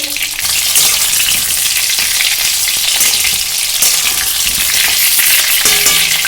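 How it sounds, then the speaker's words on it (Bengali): Pointed gourd (potol) frying in oil in a pan over medium heat, a loud, steady crackling sizzle that continues without pause and without speech. "পটলটা ভাজা হতে থাকুক পটলটা কিন্তু আমরা মিডিয়াম হিটে রাখবো যাতে খুব সুন্দর করে ভাজাটা হয়"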